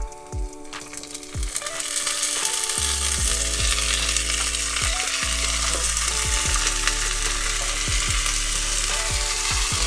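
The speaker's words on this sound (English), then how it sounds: "So our garlic is getting golden. You want to make sure that it doesn't brown. So now is the perfect time to throw your beans in." Beans dropped into hot oil with golden garlic in a pan on an RV stove, a loud steady sizzle with repeated scraping and stirring knocks, no voices.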